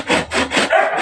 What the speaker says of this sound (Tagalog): ito po ay bubuksan natin gamit ang lagari kasi matigas po ang balat